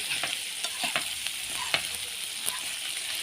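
Chicken livers and gizzards frying with onions in a pan, stirred with repeated scraping strokes over a constant bright sizzle, close and fairly loud, no talking.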